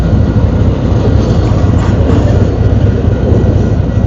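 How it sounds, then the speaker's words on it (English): A train passes close by with a loud, steady rumbling roar of rail wagons that fills the whole stretch without a break. "I hope you can hear me over this train."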